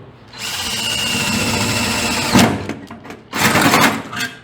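Close, loud whine of a power drill with a bent bit running, briefly stopping, then spinning up again in short bursts; no voices.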